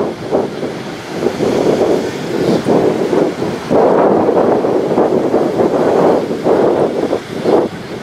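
Strong, gusty storm wind on Lyubimovka beach roars and buffets the microphone in surging waves, with no voices, loud and continuous throughout.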